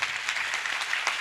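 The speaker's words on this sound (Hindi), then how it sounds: "जोरदार तालियां बजाओ" Applause from the audience at a Hindi Bhagwat Katha religious gathering, a short even patter of many hands clapping at moderate volume with faint rhythmic swells, no voices over it.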